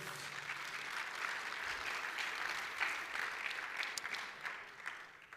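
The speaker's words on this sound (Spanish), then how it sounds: "Démosle palmas al Rey." A church congregation claps steadily together in sustained applause, moderately loud and fairly near, with a continuous dense patter and no talking over it.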